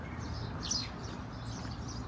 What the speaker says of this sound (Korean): 아따 새소리 새들이 난리네